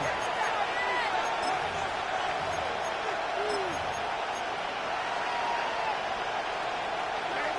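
Crowd noise at an NFL football game, Minnesota Vikings versus New Orleans Saints, a steady distant roar filling the stadium under continuous commentary.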